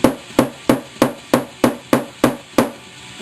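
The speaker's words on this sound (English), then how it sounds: "Now get your hammer and hit it in" A hammer strikes a wooden dowel pushed into a firecracker container nine times in a steady rhythm, each blow a sharp, close, loud knock with a brief decay.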